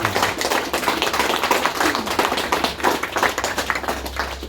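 A modest group at a classic and vintage car club charity launch day claps for a sponsor, with distinct individual hand claps in a loose, uneven patter at moderate loudness.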